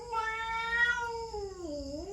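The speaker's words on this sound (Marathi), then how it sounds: "इथं दुसरी मांजर आली आहे समोर आणि ना भांडायली" A domestic cat outdoors on a cool, rainy day gives a single drawn-out meow that falls in pitch at the end. It sounds clear and fairly close, with no talking over it.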